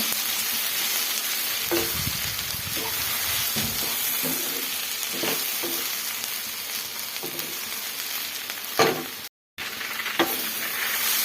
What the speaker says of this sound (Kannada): ಹುಣಸೆಹಣ್ಣು ಮೆತ್ತಗಾಗೋ ತನಕ ನಾವು ಫ್ರೈ ಮಾಡ್ಕೊಬೇಕು.